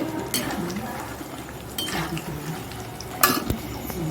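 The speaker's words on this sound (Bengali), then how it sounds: "অনেক দিন পর এই নিমকি ভাজলাম" Nimki pastry fries in hot oil, giving a soft sizzle with intermittent scraping and clinks of a utensil against the pan, close by, with a voice faintly audible at times.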